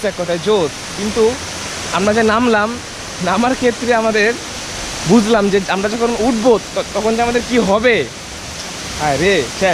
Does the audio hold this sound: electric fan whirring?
no